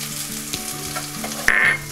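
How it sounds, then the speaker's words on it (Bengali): Smashed potatoes get stirred into a spiced masala in a hot pan, a close, continuous frying hiss with a few scraping stirs and one brief sharp clink near the end. "এবার আমরা দিয়ে দিচ্ছি এই স্ম্যাশ করা আলুগুলোকে"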